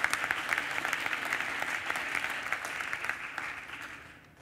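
Steady applause fills a conference hall at European Development Days 2013, a dense, even clapping from a large audience that holds level and then fades out at the end, with no voices.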